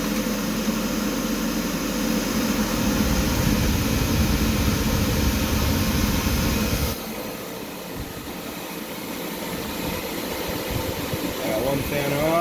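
Case fans on a 12-GPU mining rig spin up on a test fire, a loud steady whoosh of moving air that drops abruptly partway through and continues at a lower level, with a voice briefly heard.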